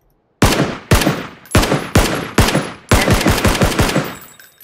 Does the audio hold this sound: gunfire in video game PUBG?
yes